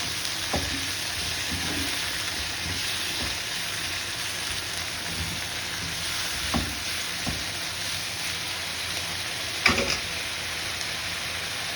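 Homemade ginger garlic paste frying in a pan for cauliflower fry makes a constant close sizzle with occasional scraping stirs and a few sharper clinks of a spoon against the pan.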